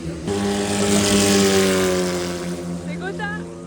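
Race cars at the GP Explorer event speed down the straight, a loud steady engine drone with sustained tones rising near the end as a voice talks over it.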